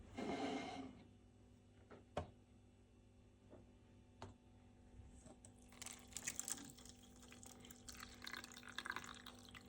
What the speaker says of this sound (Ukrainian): Тепер заливаємо 150 мл теплої води.